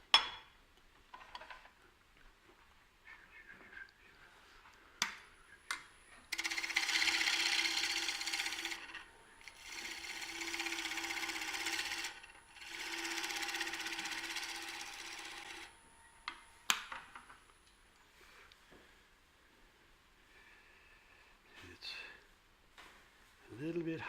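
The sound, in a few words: shear scraping a cheap pine bowl on a lathe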